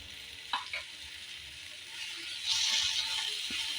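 Spices frying in oil for a Bengali egg tadka dal: a steady sizzle with a couple of sharp utensil knocks early on, then the hiss swells louder as stirring continues.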